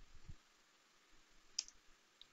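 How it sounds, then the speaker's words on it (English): A computer keyboard is pressed for a Control plus O shortcut, giving a few faint, quiet clicks spread over a couple of seconds in an otherwise near-silent room. "So I'm just typing Control"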